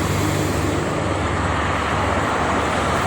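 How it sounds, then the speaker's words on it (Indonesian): Constant roar of heavy traffic on the Jakarta–Cikampek toll road in the morning, many trucks of all sizes plus buses rumbling by in an unbroken, loud wash of engine and tyre noise. "Nanti lihat ini truk-truknya banyak sekali teman-teman pagi ini"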